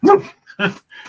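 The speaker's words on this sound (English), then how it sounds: "If you hear my dog barking" A pet dog barks nearby, two or three sharp, loud barks in quick succession with short gaps between them, heard alone without other sound.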